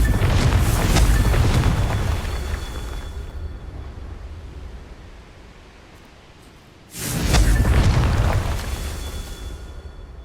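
Two heavy, booming blasts from the Confringo fire spell in Hogwarts Legacy. Each explosion rumbles and slowly fades, and a quieter lull falls between them.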